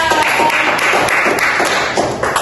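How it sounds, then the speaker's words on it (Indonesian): Classroom applause for a student's presentation during a practice teaching lesson, a dense steady patter of many hands clapping for about two seconds, fairly loud and close, with faint voices mixed in. "Tepuk tangan untuk Salsa."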